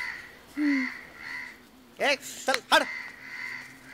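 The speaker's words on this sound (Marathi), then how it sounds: "कावळा आहे." A crow gives three sharp, close caws in quick succession after a person speaks briefly.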